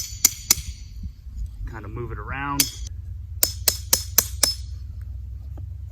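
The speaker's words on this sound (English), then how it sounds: "I'm gonna hammer a hole in." A metal driving tool is hammered into the ground in a few sharp, ringing strikes: a pair near the start, then four or five evenly spaced blows later on. Someone talks in between over a low background hum.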